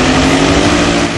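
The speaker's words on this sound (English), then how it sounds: "with ultralight engine on" An ultralight aircraft's engine runs steadily on the ground with the pilot and passenger strapped in, a loud, continuous close-up drone with a buzzing high-pitched tone throughout.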